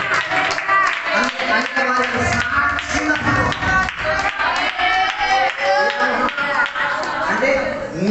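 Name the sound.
congregation clapping during a sermon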